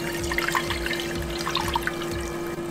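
Cold water pours steadily into a container to make a brine for chicken, a continuous close splashing and trickling stream with no talk over it.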